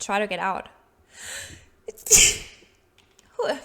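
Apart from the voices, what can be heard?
sneeze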